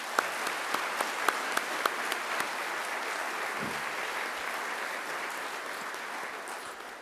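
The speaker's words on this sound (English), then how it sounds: "Please join me in giving another great round of applause" Graduation ceremony audience applauding steadily in a large hall, a dense sustained wash of clapping with a few sharper claps early on, holding at an even level for the whole stretch.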